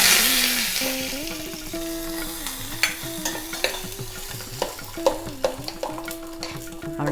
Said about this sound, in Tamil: இப்போ இந்த பக்கம் வந்து எண்ணெய் வச்சுருக்கேன். அதில் கடுகு, பெருங்காயம்,